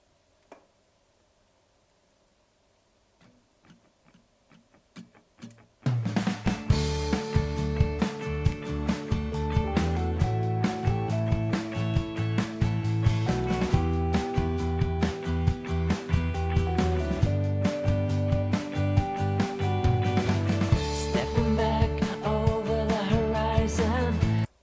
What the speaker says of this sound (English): So he played those parts again on this vintage keyboard.